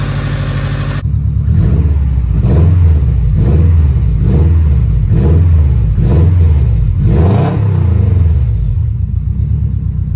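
A big-turbo Subaru Forester engine is revved repeatedly, rising and falling in a series of loud, rhythmic surges over a steady running rumble, close by.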